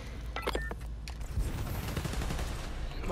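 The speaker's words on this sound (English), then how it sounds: "Why are they shooting?" Gunfire in the Marvel's Spider-Man: Miles Morales video game, a quick fusillade of shots up front followed by dense rattling bursts and rumble to the end.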